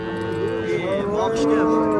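A cow at a busy livestock market gives a loud, close, drawn-out moo lasting the whole moment, with buyers' voices murmuring underneath.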